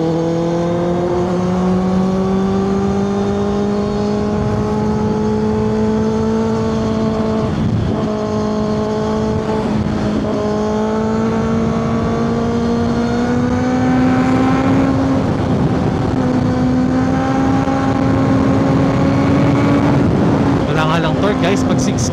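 A Kawasaki ZX6R motorcycle pulling hard through the gears, its engine note climbing steadily, quick-shifter upshifts cutting in briefly between pulls, wind roar constant. A rider talks over it.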